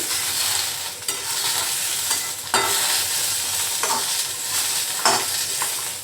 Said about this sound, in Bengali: জাস্ট এটাকে তেল দিয়ে শুধু একটু নেড়ে নিলাম।